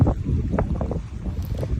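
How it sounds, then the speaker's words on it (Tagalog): Strong wind buffets the microphone with a low, rumbling roar that rises and falls steadily, alongside faint watery outdoor noise while fishing. "Kahit malakas yung hangin."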